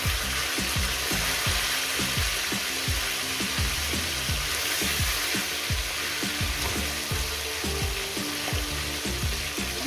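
Steady, dense sizzling of a catla fish head frying in hot oil, continuous crackle and pops throughout with no voices.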